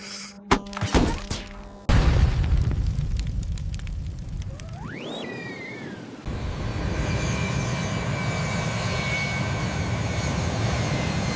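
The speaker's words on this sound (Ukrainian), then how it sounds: "ось дивіться, цей літак тягне за собою ще три літаки." In The Simpsons cartoon, an airplane towing three more planes roars by overhead: a broad rushing engine noise with a rising, then falling whine near the middle, after sharp thuds at the start.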